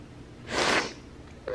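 A single brief sniff from someone apologizing, one sharp close nasal intake of breath followed by quiet.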